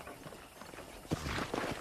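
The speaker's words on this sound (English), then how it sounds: "I picked out a fine horse for you." Horse hooves clip-clop in the Red Dead Redemption video game, a moderate, uneven run of steps that grows louder and busier in the second half, with no speech.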